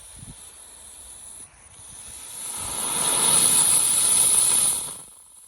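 A homemade rocket motor in a C6 casing packed with sorbitol and potassium nitrate fuel roars through a static thrust test, a steady close hiss that builds over a few seconds, holds, then tapers off as the burn ends.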